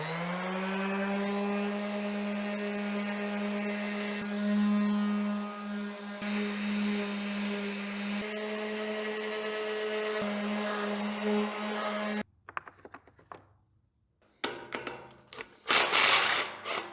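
A power sander with a mesh sanding pad whirs steadily with a strong humming drone for about twelve seconds, then cuts off into scattered scraping and rubbing noises.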